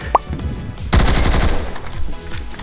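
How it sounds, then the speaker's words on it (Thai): An MG 42 machine gun in a video game fires a very rapid, loud continuous burst lasting over a second, preceded by a short click, with echoing rattle trailing off afterward. "เมื่อกี้คือเออ MG 42ซึ่งถือว่าแบบยิงค่อนข้างเร็วมาก"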